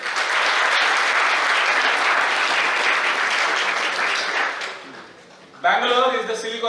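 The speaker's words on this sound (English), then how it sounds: "educated people, clap for yourself." Dense, loud audience applause at a keynote address on entrepreneurship in India fills the hall for about five seconds, fades, then a speaking voice takes over near the end.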